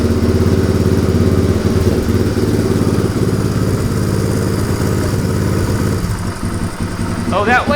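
A Honda motorcycle engine idling with its choke just taken off, a loud, steady, slightly rough mechanical rumble with clatter, close up and continuous, with brief faint noise near the end.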